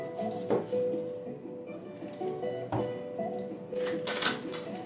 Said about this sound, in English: one more shuffle and we'll get one final card